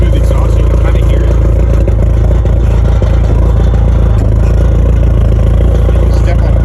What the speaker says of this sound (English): it rattles right through the exhaust, so you can kind of hear it